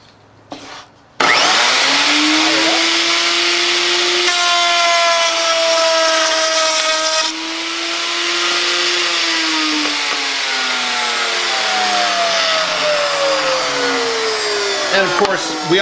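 A router on a router table cuts into a scrap piece of wood, sounding as a loud, steady high whine that starts abruptly after a moment of quiet and holds through the cut, its pitch sagging slightly as the bit bites.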